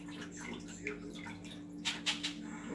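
Dried beans being rinsed in water in a kitchen, soft splashing and swishing with a few sharper splashes near the end, under a steady low hum and someone talking.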